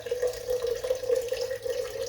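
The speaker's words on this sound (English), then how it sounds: "So here I add the measured water into the salt." Measured water pours into a container of salt to make sauerkraut brine, a steady close trickling stream running the whole time with no voices.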